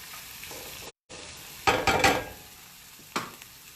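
Bacon frying in a pan on low heat, a soft continuous sizzle broken by a few louder bursts of crackling and stirring scrapes, no talking.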